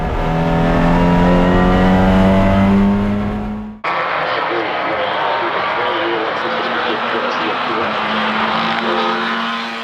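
Honda Civic Type R race cars at speed on the Indianapolis circuit during a TC America race, a loud engine drone that cuts abruptly to a fainter, rougher roar of cars on track.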